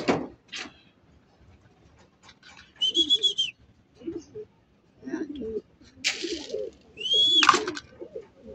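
Racing pigeons coo in soft, low bursts near a loft, broken by a couple of sharp whistle-like sweeps and light rustling and knocks, with gaps of quiet between.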